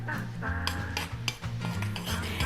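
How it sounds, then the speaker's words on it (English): A spoon stirs hatch chili in a pan, giving repeated scraping strokes and light clinks against the metal over a continuous low background hum, close and moderately quiet. "if you stir it like this, like I'm doing"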